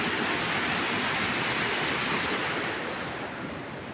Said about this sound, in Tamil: இந்த பாருங்க, செம்ம ஸ்பீடாக போய்கிட்டு இருக்கு தண்ணி.